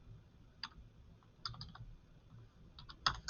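Faint, close computer-keyboard typing as a search is entered into Google, sparse irregular key clicks in small clusters over a quiet room hum, no talking.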